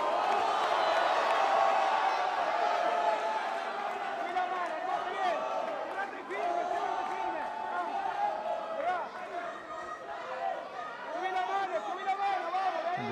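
Fight crowd at a Jose Aldo versus Emmanuel Zambrano bout cheers and chatters steadily for Aldo, a dense roar of many voices with scattered whoops, while a commentator talks over it.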